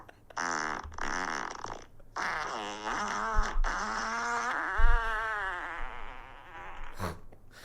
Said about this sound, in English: I've been added to a group where men record themselves farting.